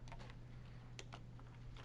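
Quiet keystrokes on a computer keyboard sound in an irregular burst of taps, faint and somewhat distant, over a steady low electrical hum with no one speaking.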